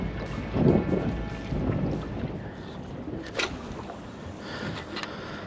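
Strong wind blasts across an open bay while someone fishes with lures, making a heavy rumbling roar in uneven gusts that swell and fade, with a faint crackle of buffeting.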